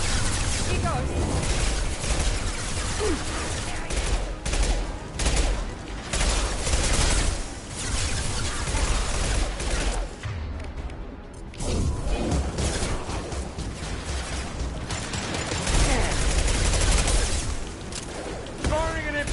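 Impact shot gunfire in a PS4 video game, with dense, continuous bursts and crashes running loud throughout, under a voice talking over the action.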